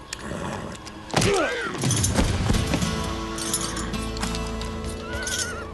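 A horse gives a loud, shrill whinny close by, followed by a steady clatter of hooves and faint jingling tack in a Western town street, with no talk over it.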